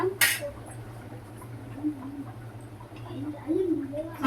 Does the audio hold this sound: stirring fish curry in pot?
yes